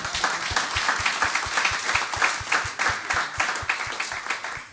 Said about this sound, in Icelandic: Þú gefa því gott klapp.